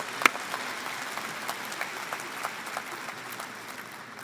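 A graduation audience claps steadily, a sustained wash of applause from a crowd with a few sharper individual claps standing out, moderately loud throughout.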